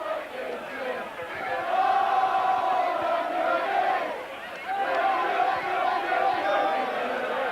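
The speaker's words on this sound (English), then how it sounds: "And listen, this crowd." A large crowd at a Workington Town versus Wigan rugby league match roars and chants in sustained swells that dip briefly and rise again, a dense wash of voices filling the stadium.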